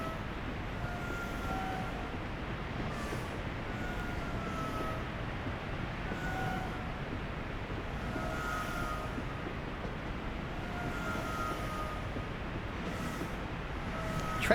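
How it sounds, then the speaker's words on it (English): A passenger train in Train Sim World 3 on the Cane Creek route rumbles steadily at constant speed, with a continuous low drone and faint recurring squeals over the full length. "Train sounds like it's in pain."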